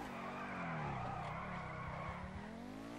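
A car drifting in GTA V, its engine droning steadily while the tires squeal in a long continuous skid, loud and close, with no voices over it.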